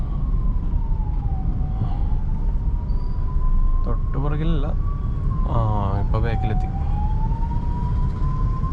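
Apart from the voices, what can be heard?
ambulance siren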